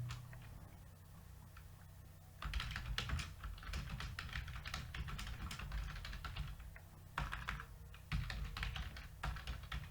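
Steady, fast clicking of keys on a computer keyboard while text is typed, close and fairly quiet, with a brief pause near the start and another around the eighth second.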